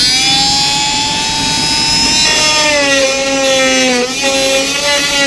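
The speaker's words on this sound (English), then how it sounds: "let's tighten that up and we'll do some cutting. All right, so let's try this on a piece of wood first." A new Ridgid oscillating multi-tool blade cutting a piece of wood makes a loud, close, steady high whine that sags in pitch for a moment as the blade bites near the end.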